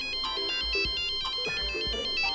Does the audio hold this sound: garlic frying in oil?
no